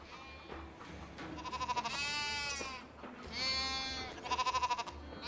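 Two long, wavering video game sheep bleats ring out close by, each ending in a rapid quavering trill, separated by a brief quiet gap.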